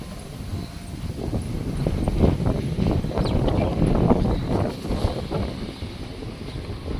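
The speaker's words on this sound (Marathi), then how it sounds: "वारं खूप सुटलं आज" Strong wind blowing outdoors beside the Nagar–Jamkhed road, a steady rough buffeting roar on the microphone that swells and eases over several seconds with no talk.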